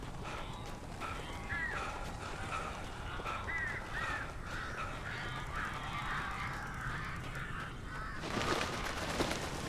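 Crows in the video game Alan Wake give several harsh caws over a steady, noisy game ambience, moderately distant, with a louder rustling burst near the end.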